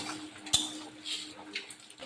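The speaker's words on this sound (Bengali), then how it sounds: "মুগের ডালটাকে আমি একটু কাঠখোলায় ভেজে নেব।" Moong dal dry-roasting in a kadai with two dried bay leaves, heard as a quiet pan sound: one sharp metal utensil clink near the start, then faint dry rustling and scraping.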